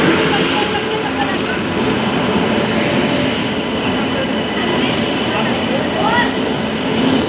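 Akal Takht Express train pulling into a crowded Indian railway station, a loud continuous rumble and rolling clatter of wheels on rails, with broadband roar and faint squeals close by.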